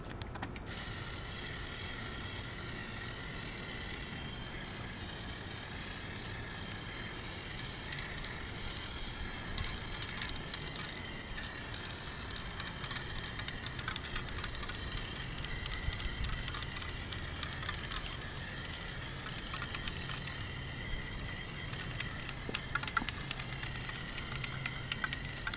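Aerosol spray can laying down a Plasti Dip coating, a steady close hiss that runs almost unbroken for the whole stretch with faint mechanical clicks and no talk.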